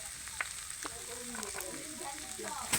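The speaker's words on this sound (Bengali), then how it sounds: "এবার ভালো করে একটু মিক্সড করে নিচ্ছি" A spiced cauliflower filling seasoned with sugar and garam masala is stirred in a pan, giving a soft, steady sizzle with faint scraping strokes and no talk.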